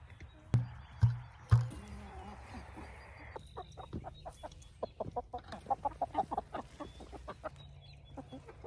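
A winter homestead chicken flock clucks nearby, with a few sharp, louder calls early on, then a quick run of short clucks and chatter.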